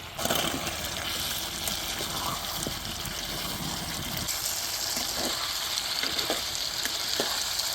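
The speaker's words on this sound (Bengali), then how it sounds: "ভাজা আলুগুলো দিয়ে এখন কষাই নিব" Fried potatoes cook down for aloo dum with salt, cumin, turmeric, chili powder, a splash of water and tomato sauce, a steady moderate sizzle with occasional soft spatula taps against the pan, no voices.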